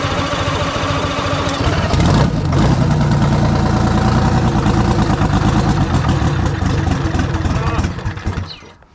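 Detroit Diesel 6V71 two-stroke engine in an LTL9000 truck cranking, catching and running loud and steady close by, then fading near the end.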